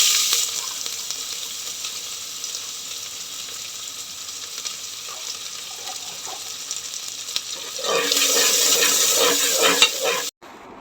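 A pot of water with lemongrass coming to a boil in a home kitchen, a steady close bubbling and hissing sizzle that swells louder near the end before cutting off abruptly.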